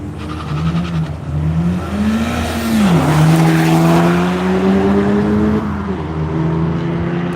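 An Acura race car drives the track at NCM, its engine note rising and falling through gear changes as it passes loud and fairly close, with no talk.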